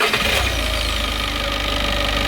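A 2018 Peugeot Expert van engine cranks and catches, settling into a loud, steady close-up idle with no voices.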